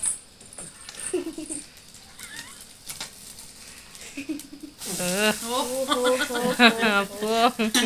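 A pancake fries in oil with a soft, continuous sizzle, quiet at first with small chirpy background sounds. Halfway through, lively voices start talking over it.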